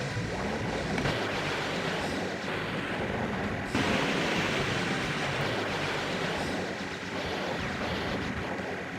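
Water gushing out of a dam in a video game, a loud, continuous broadband rush like heavy surf that fills the whole clip with no pauses and no talk over it.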